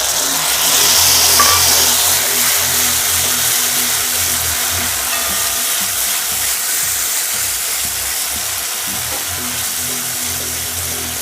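Tomatoes go into a pan of garlic frying until lightly browned, for a bathua dal, giving a steady, loud sizzle and hiss that rises at first and then settles into a continuous crackle with no talking.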